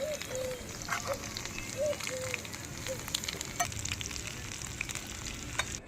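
Pakoras fry in hot oil with a steady, moderately quiet sizzle and crackle, with a few faint clinks and stirring touches over the top.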